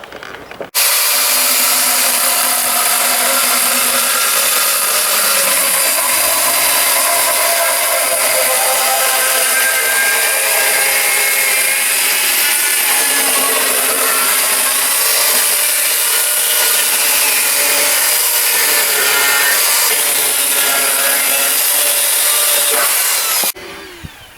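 A chainsaw cuts along the wooden roof edge of a dovecote under construction, a loud continuous close-up whine with slight shifts in load as the blade bites through the timber, no talking.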